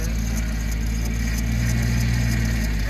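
The engine of a double decker Jeep runs loud and steady after starting, with a continuous low rumble and a faintly uneven, rough-sounding idle throughout.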